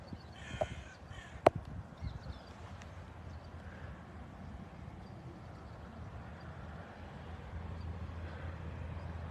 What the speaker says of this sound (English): How many birds are there, people? You want to count them?